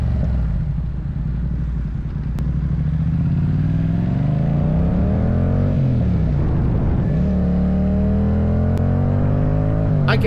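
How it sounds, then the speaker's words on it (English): A 2022 Yamaha MT-07 motorcycle with a full Akrapovic exhaust revs loudly up close, its deep engine note rising and falling through several throttle blips over a steady idle rumble. "Full Akrapovic exhaust, baby."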